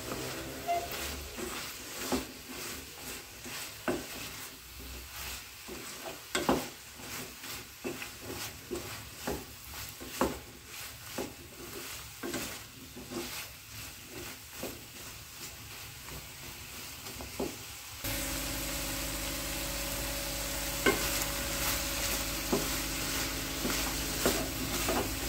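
Chopped ridge gourd sautéing in a pan for catering-style cooking: a continuous sizzle with frequent scraping stirs and ladle knocks, close by, shifting to a steadier, louder hiss toward the end.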